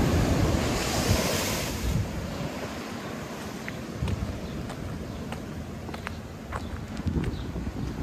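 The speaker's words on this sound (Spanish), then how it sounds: "pues ya las olas están bajando." Ocean surf breaking steadily against the seawall at Guánica, Puerto Rico, with waves still rough from a passing hurricane's remnants; a continuous close wash of water with wind buffeting the microphone and no talk.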